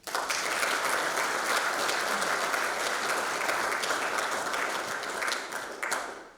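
An audience at a firefighters' day ceremony gives sustained applause for award recipients, a dense, even wash of clapping from many hands that holds steady and tapers off at the end.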